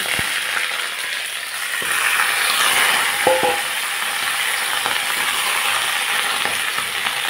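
Panch phoron whole spices crackle and sizzle in hot mustard oil in a pan, a dense, even frying hiss with a few small ticks and clinks throughout.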